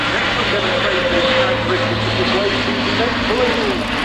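An Airbus A400M military transport aircraft drones overhead at an airshow, a loud, steady propeller engine roar with a fluctuating tone, while someone speaks over it.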